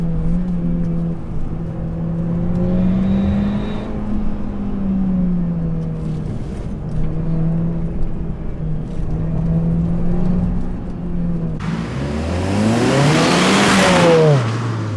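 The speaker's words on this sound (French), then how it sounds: "Audi A1 Quattro" Audi A1 Quattro engine running steadily at idle, then revving hard toward the end with a rising, loud whine, heard alone with no talk.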